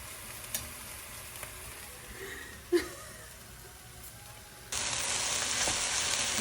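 Grated fresh ginger gets stirred into Thai red coconut curry in a pot, a soft sizzle and scrape under quiet clinks, then louder steady frying hiss in the final seconds.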